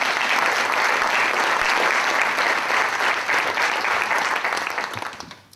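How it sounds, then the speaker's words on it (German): An audience at a Hamburg public discussion event applauds Körber Foundation members, dense steady clapping from a crowd filling the room for about five seconds before tapering off at the end. "Applaus."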